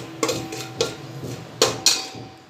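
Dahi vada dusted with red chili powder is tossed in a metal vessel, giving a few sharp, close clanks and scrapes at irregular intervals over a quiet kitchen background, with no talking.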